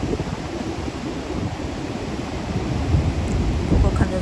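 Sea waves wash onto a windy beach in a steady broad rush that grows louder toward the end, with wind buffeting the microphone.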